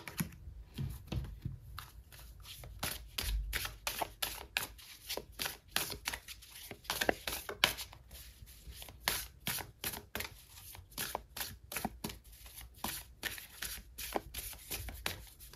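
Tarot cards are shuffled and drawn in a quiet room, a soft, rapid run of riffling flicks and taps that continues steadily throughout.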